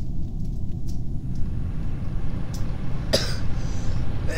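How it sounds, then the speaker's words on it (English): A single person's cough, sharp and close, bursts out once over a continuous low rumbling background of loud game audio. "I don't know if you heard the cough"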